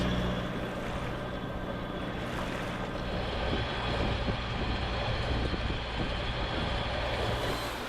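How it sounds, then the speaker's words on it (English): Sailboat under sail on a long passage with the motor off, giving a steady low rush of wind and water against the hull, moderately faint and continuous, with no voices. "the motor is off, and we've been under sail for the last, I don't know, 5-6 hours"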